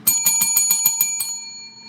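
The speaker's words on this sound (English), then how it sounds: "make sure you hit that notification bell" A notification bell sound effect rings out as a quick run of about seven bright metallic dings in even rhythm, close and clear, then its tone fades.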